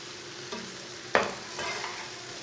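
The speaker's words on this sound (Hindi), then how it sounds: "अंडों को अच्छी तरह मिक्स करके 2 मिनट तक पका लेंगे" Beaten eggs with ridge gourd cook in a pan, a soft steady sizzle with a few spoon scrapes and stirring knocks close by.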